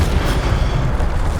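Loud sustained roaring whoosh of the Incendio fire spell cast in Hogwarts Legacy, a dense rumbling burst of flame with low booming body, close and alone without talk.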